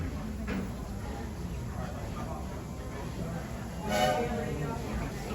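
Walt Disney World Railroad train rumbling steadily into a station, a low continuous rolling noise with a brief louder burst near the end, under faint talk.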